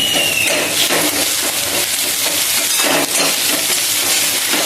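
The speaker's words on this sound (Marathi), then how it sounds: "कांदा आपला चांगला फ्राय झालेला आहे" Sliced onion sizzles steadily in hot oil in a pan while cooking kanda poha, a bright, continuous crackling hiss with occasional louder spits, close and loud throughout.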